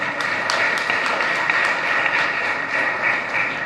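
Audience applause at a startup summit, a steady wash of many hands clapping at moderate distance, sustained evenly for a few seconds.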